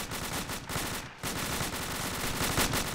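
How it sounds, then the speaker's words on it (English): Sustained rapid gunfire in a shooter video game, dense automatic bursts crackling continuously at close range with a brief gap midway, loud and without talk. "Oh shit, I just got shot."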